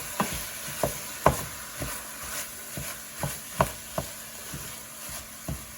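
Ground meat (beef, pork or venison) crumbling and frying in a pot for chili, with a steady sizzle broken by repeated scraping stirs of a spatula, close and fairly loud, no talking.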